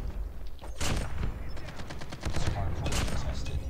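Rapid gunfire in Call of Duty Mobile, including a sniper rifle, with a fast stuttering series of shots and sharp reports, loud and close, mixed with other battle noise.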